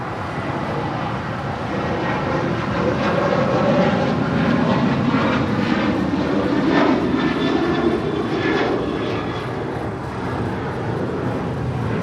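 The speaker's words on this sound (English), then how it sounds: "American Airlines Flight 669 departing to Chicago O'Hare on the 737-800" An American Airlines Boeing 737-800 departs LAX for Chicago O'Hare with a loud, sustained jet engine roar that holds steady throughout, heard close with no talk over it.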